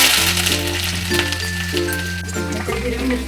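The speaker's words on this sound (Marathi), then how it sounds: "पहिल्यांदा लसूण टाकूया 1 चम्मच" Garlic hits hot oil for fried rice, giving a steady crackling sizzle close up that runs throughout, with a low tonal hum beneath it.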